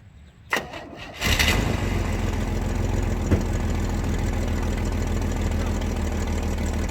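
A car engine with an exhaust leak cranks briefly and catches, then settles into a steady, close idle with a faint rapid ticking running through it.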